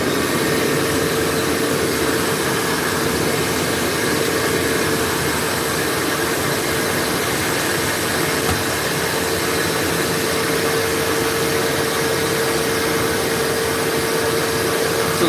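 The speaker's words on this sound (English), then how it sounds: "We're gonna vacuum them out." A vacuum connected to a two-stage dust collector runs steadily to suck wood chips out of a workshop piece, giving a constant loud whirring drone with a faint steady tone and no talk over it.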